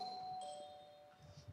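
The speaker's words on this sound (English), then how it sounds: "The pig rang the doorbell" A doorbell chimes at a kindergarten play, a two-tone ding-dong that rings out moderately loud over quiet room noise and fades over about a second.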